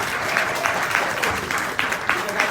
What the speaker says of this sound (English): So how about a round of applause for Easter Seals and everything they're doing?